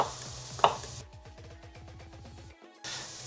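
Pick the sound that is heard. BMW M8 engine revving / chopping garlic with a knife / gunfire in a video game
chopping garlic with a knife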